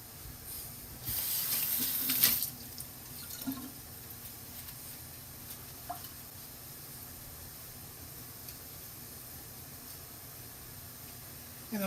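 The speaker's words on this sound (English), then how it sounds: "I'm leaving the water on because for the topping we're going to need the water." Kitchen tap water runs during Nanaimo bar preparation: a loud, steady gush for about a second and a half near the start, then it drops away to a quiet, faint background hiss for the rest.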